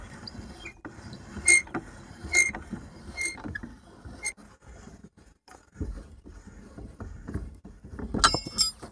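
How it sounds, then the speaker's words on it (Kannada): A spanner works loose a car wheel bolt during a punctured-tyre change, giving a string of faint metallic clicks and ratchet-like ticks with creaks at roughly regular intervals, close and quiet. "ಆವಾಗ ನಾವು ಸ್ಪ್ಯಾನರ್ ತಗೊಂಡು ಬಿಚ್ಚಬೇಕಾಗುತ್ತೆ"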